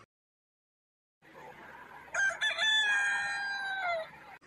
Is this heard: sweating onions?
no